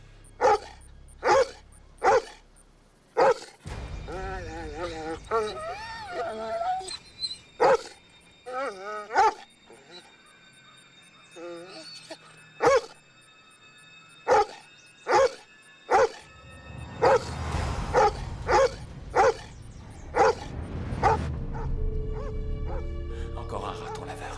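A dog barks in repeated sharp, loud bursts spread through the scene, with a few yips and whimpers between them, while people talk in the background and a low rumble builds toward the end.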